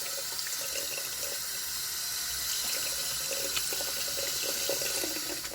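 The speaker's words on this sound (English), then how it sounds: "give it a little rinse in the sink." A sink tap runs in a steady stream while etched metal pieces are rinsed under it, close and continuous with no speech.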